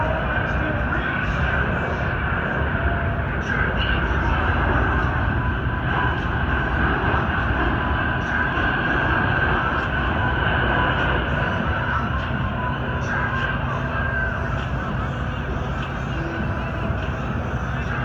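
A USAF Boeing C-17A Globemaster III military transport jet turns overhead during an airshow demonstration at the 2018 Great New England Air Show, its engines producing a steady, broad roar throughout, with an announcer speaking over the noise.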